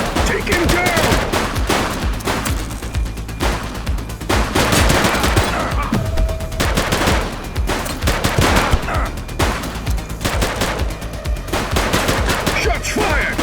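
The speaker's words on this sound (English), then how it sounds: "Shots fired!" Sustained gunfire in the police video game The Precinct, dense bursts of automatic and single shots rattling almost without pause, loud and close, with occasional shouted voices mixed in.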